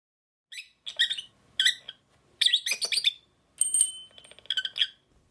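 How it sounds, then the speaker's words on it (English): A blue lovebird kept indoors gives bright, high chirps in quick clusters, with brief pauses between the bursts. The calls are close and clear, with no other sound behind them. "Donna Carson has 2 cats, but it's Harlow, a blue lovebird that chirps for attention in her study."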